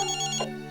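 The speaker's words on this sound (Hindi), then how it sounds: "ओ रज्जो, फोन में नहीं उठाती, पता नहीं कहाँ चली गई है।" A brief electronic phone ring chirps once, then cuts off, fairly close and clear.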